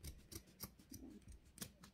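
Scissors loosely snipping through fabric for a handmade gnome, a few quiet, crisp cuts at an irregular rhythm, close up with no talking.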